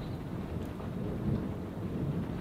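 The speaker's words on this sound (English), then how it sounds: "It is definitely a nasty storm." A severe thunderstorm with hail brings a steady roar of heavy rain and deep, rolling thunder that rumbles throughout, loud and close, with no voices.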